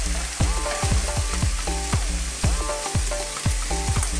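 Vegetables stir-frying in an Asian wok, a loud, close, continuous sizzle punctuated by rhythmic metallic scrapes and clanks of the spatula tossing them, roughly twice a second, with no voices.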